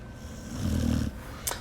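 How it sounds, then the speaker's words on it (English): A dog snoring indoors during a live stream, one slow, low rumbling snore swelling and fading over about a second, followed by a brief sharp snort or sniff near the end. "The dog snoring is cracking you up"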